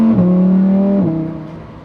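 A Lamborghini Huracan STO with a naturally aspirated 5.2-liter V10 and titanium Akrapovic exhaust gives a short, loud, close rev, its tone holding steady, then shifting upward and fading away.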